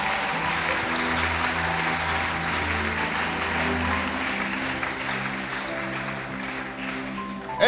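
A church congregation applauds and cheers for a believer, sustained clapping filling the room under steady sustained keyboard or organ chords.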